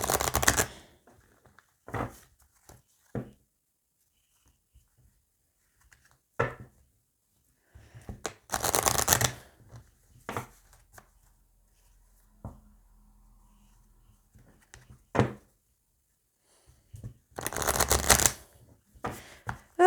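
Slightly bent tarot or oracle cards are shuffled by hand close up. Several short bursts of papery riffling and flicking are separated by quiet pauses, with no talking.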